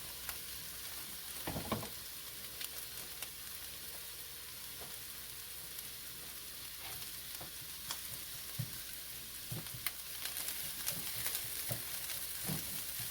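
Shrimp fried rice with vegetables and eggs sizzles steadily in a pot over medium-low heat, broken by repeated scraping and clanking stirs of a utensil against the pot.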